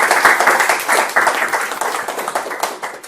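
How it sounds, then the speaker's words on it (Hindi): An audience clapping together at a motivational success seminar, a dense, steady roar of many hands applauding for about three seconds, close and loud, with no talking over it. "तो किसके लिए ताली? खुद के लिए।"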